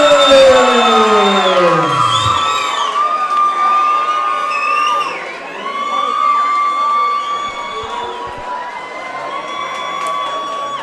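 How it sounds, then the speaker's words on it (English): A boxing arena crowd cheers for a local fighter at a hybrid boxing bout, with loud whoops, shouts and high whistles over a continuous roar that dips briefly midway and then swells again. "please welcome his opponent to the red corner, Jake Saunders."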